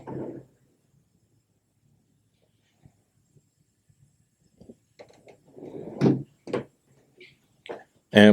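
A hotel room drawer slides open and shut, making a few soft scrapes followed by sharp wooden clunks near the end. A voice speaks briefly before and between the sounds.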